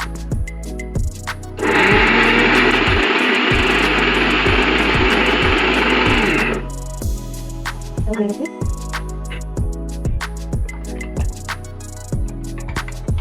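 A mixer grinder whirs loudly for several seconds while blending coriander leaves and tomato into a paste, a steady high motor roar that stops abruptly, surrounded by faint clicks and kitchen knocks before and after.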